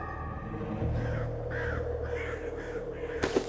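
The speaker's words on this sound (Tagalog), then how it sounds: "Oh, ayan na yung uwak." A crow caws several times at moderate distance in a rural provincial setting, the calls spaced out over a low steady hum, ending with a sharp knock.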